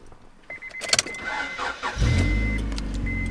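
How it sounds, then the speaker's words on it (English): A Honda Prelude fitted with a Yonaka catback exhaust cranks and fires up, preceded by a few clicks and a chime, then settles into a steady, close, low idle rumble with no talking. "turn the car on."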